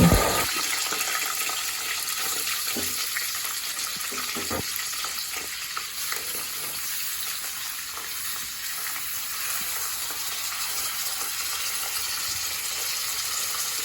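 Sliced onions frying in reused oil for a home-style beef curry, a loud, continuous hissing sizzle that starts with a burst and stays steady with occasional stirring scrapes.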